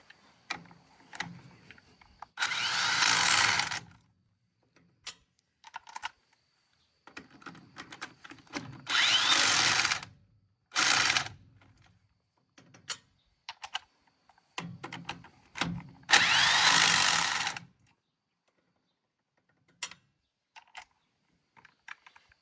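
An impact wrench drives impact sockets onto wheel lug nuts during a farm flat-tire repair: three loud, rattling bursts of about a second each, separated by quiet gaps with scattered clicks and clinks of handled tools.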